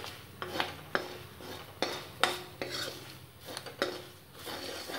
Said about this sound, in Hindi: बस अब मसालों को अच्छे से हम मिक्स करेंगे।